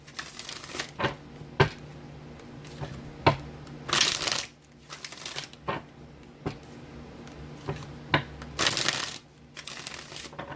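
A Morgan Greer tarot deck is shuffled in close, crisp bursts of card riffling and slapping. The bursts are spaced irregularly and broken by sharp taps against a quiet background hum.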